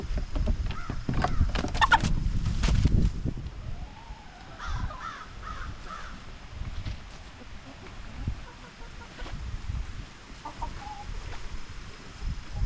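Farm chickens cluck and call in short bursts, louder at first and then scattered and fainter over a low background rumble, with no clear talking.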